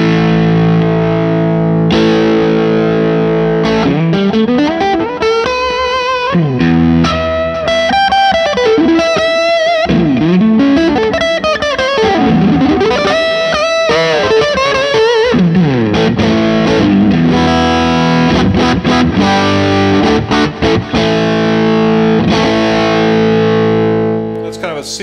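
Electric guitar with a single coil pickup, like a Strat in second position, played through a Vertex UltraPhonix MkII Dumble-style overdrive pedal, giving a warm, driven amp tone with a steady stream of loud notes and chords.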